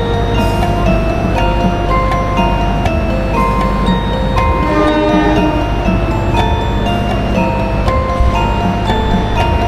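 A busy platform at Yogyakarta railway station rings with the loud, continuous rumble and tonal hum of a train, layered with sustained pitched tones and occasional clicks over a constant wash of station noise.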